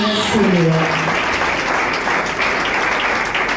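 A church congregation breaks into loud, sustained applause and cheering at a worship gathering, with a voice briefly heard at the start before the clapping fills the room.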